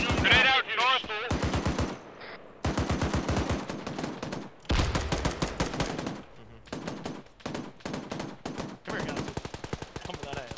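Sustained automatic gunfire in a military combat game plays out in long, rapid bursts with short gaps between them, loud and close, and voices are heard shouting briefly at the start.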